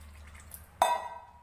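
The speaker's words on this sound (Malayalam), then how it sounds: "ഇനി ഇതിലേക്ക് നിരക്ക വെള്ളം ഒഴിച്ച്" Water is poured into a pot of chopped pumpkin, a short splashing pour that starts abruptly, runs for about half a second and then cuts off, fairly close and alone.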